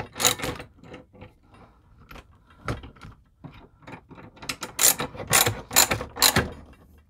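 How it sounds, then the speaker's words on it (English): A torque wrench set to 15 foot-pounds is cranked on a 3D-printed socket held in a vice, giving bursts of close, loud ratcheting clicks, scattered at first, then several quick sharp runs near the end. "I'm going to set my torque wrench to 15 foot-pounds, pop it on the end of this, give her a crank."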